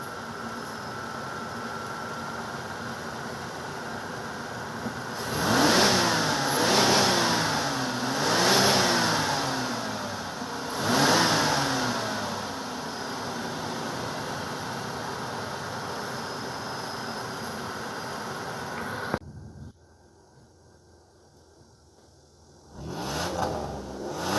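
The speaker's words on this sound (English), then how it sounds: "We'll give you a little engine rev." A 1997 Buick LeSabre's 3800 V6 engine is revved several times in quick bursts, rising and falling over a steady idle before the sound cuts off briefly and picks up again.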